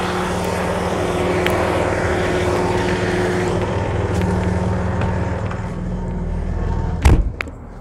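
A Case 9900 sugarcane harvester engine runs with a steady droning roar, loud and continuous, ending in a sharp metallic clunk near the end.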